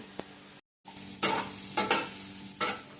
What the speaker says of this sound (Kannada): ಫ್ರೈ ಆಗಲಿ.